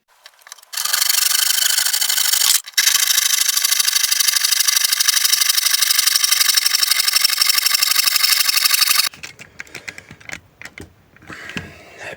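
A Parkside router cuts through a part with a loud, steady high-pitched whine. It runs for about two seconds, breaks off briefly, then resumes for about six more seconds before stopping, followed by faint handling clatter.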